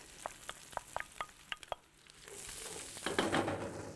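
Diced onions hit hot olive oil in a paella pan on an infrared grill: a run of sharp clicks and taps from the pan, then a loud, rising sizzle that swells and crackles close by.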